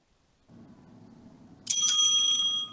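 A debate timekeeper's bright, ringing bell strikes once over a low background murmur and keeps sounding, its tone sustaining loudly to the end.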